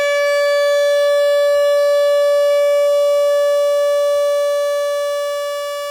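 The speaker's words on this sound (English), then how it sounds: "you can hear that we've lost not only a lot of volume, but also a lot of frequencies" Stylophone Gen X-1 synth with its low-pass filter cutoff turned down, holding one steady sustained note, loud and alone, that swells slightly and then fades a little toward the end.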